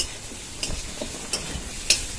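Sliced ridge gourd fries on high heat in a pan before salt and turmeric go in, giving a soft, steady sizzle broken by a few sharp clicks of stirring.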